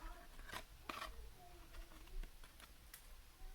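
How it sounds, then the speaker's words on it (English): Scissors snipping small V shapes out of paper for a cut-out Scottish terrier shape, a few quiet close crisp cuts spread over a few seconds against a faint background hum. "I'm gonna just cut out these little V shapes, and that's a lot easier than trying to go in and out with your scissors."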